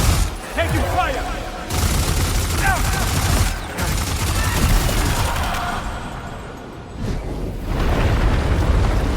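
Heavy gunfire and explosive bursts in Death Stranding 2 On The Beach, loud and sustained across the whole stretch with rapid volleys, booming impacts and brief lulls, while voices talk over the combat.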